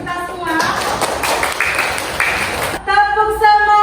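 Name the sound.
class clapping hands together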